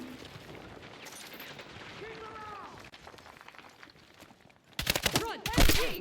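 Gunfire in a Battlefield campaign battle, with bursts of shots at the end that grow loud and dense over a busy combat soundscape, plus shouted voices and scattered clatter earlier on.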